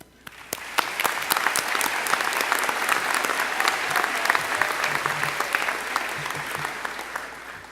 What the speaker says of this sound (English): I would like to give a round of applause to them.